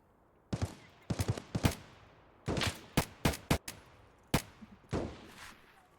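Gunfire in the Escape from Tarkov shooter game: a string of sharp, loud shots in irregular single reports and quick bursts, some close together, echoing briefly between them.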